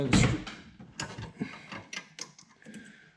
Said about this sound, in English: Then the bulb itself just unscrews.